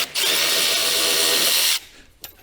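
A power drill spins a screw back out of a full-body skid plate on a 2023 Ski-Doo Expedition SWT snowmobile, one steady whine of about a second and a half, loud and close, then stopping into a quiet workshop with a small clunk.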